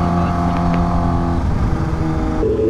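A Kawasaki Ninja H2 motorcycle engine blipping through downshifts, a loud, close, steady drone with shifting pitch that drops toward the end.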